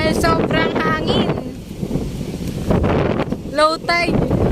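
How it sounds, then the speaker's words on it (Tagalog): Strong wind at a beach roars and buffets the microphone in a constant, close rush, with people talking over it in bursts. "Dahil sobrang hangin."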